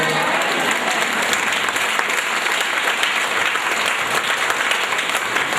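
An audience at a family Reiki satsang claps loudly and continuously, a thick wash of many hands applauding with no pauses and no talk over it.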